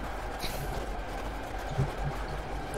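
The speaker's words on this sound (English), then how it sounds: "I think the train is struggling with my Jeep. It's so heavy, it barely moves." In the driving game The Crew, a train hauls a heavy Jeep along its track with a low, steady rumble and faint clanking, a subdued constant drone without any voices.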